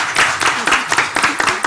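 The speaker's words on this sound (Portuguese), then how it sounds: "Ganhou palmas." Audience applause at a debate forum, a close, loud burst of dense clapping with irregular sharp hand slaps throughout the short stretch.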